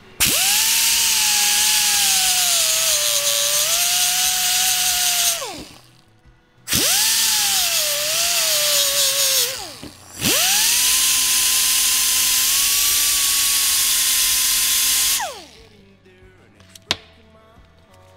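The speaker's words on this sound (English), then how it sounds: "just a sanding disc on an angle grinder" An angle grinder fitted with a sanding disc smooths a chipped pinion tooth in three loud high-pitched runs, each spinning down into a brief pause, ending with a sharp knock.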